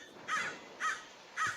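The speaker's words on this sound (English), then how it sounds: "Man, those birds are so loud." Three evenly spaced harsh caws from a Minecraft crow, each short and distinct over a faint background hiss.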